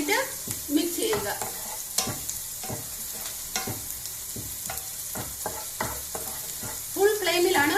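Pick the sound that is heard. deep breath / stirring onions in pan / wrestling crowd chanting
stirring onions in pan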